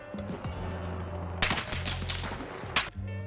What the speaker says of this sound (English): You saw the gunfire up there.